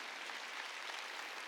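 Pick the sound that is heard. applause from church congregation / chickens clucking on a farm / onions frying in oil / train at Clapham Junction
applause from church congregation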